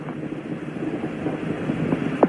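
Space shuttle main engines throttle down during ascent, heard as a steady broadband rumble under a radio-like channel with faint tonal blips and chirps.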